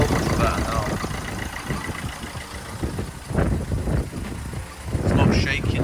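A Vauxhall Corsa engine idles steadily around 900 rpm, a low continuous rumble heard close up with some cabin noise and faint movement sounds over it.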